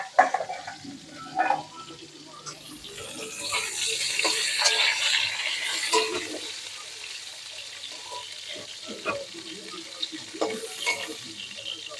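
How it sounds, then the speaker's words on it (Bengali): Food fries in a pan while being stirred and turned, with scraping utensil knocks over a rising and falling sizzle; faint voices are audible in the background. "একটু ভালোভাবে একটু নেড়ে নিচ্ছি, একদিকটা মনে হয় ভাজা হয়ে গেছে"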